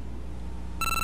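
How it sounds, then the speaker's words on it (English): An electronic phone ring from the video game Keitai Denjuu Telefang begins near the end, a steady high tone over a low background hum. "Phone call."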